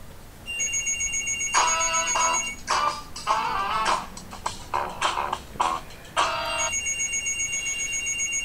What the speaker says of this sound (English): when the phone rings, it comes up on the computer